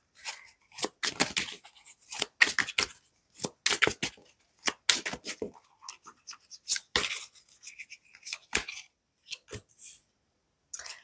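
Tarot cards being shuffled and handled during a reading, giving a run of quick papery riffles and slaps in irregular bursts with short pauses, close and fairly quiet, and no voices.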